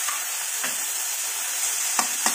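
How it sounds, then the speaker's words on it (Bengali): Drumstick (moringa) stems frying in a pan for a Bengali-style dish are stirred, with a continuous bright sizzle broken by a few sharp scrapes of the spatula near the end. No one speaks. "একটু নেড়ে নেব।"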